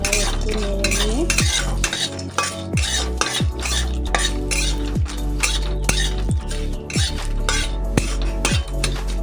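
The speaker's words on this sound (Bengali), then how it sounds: "তো এটা যে শুকনো মশলা একটু নেড়ে নিয়ে" A utensil scrapes and stirs dry whole spices, cumin and mace, in a pan with no oil, producing repeated rhythmic scraping strokes and metallic clinks at a steady pace, close and loud, with no voices.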